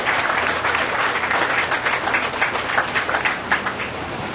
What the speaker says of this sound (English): Let's give all these junior exhibitors a round of applause.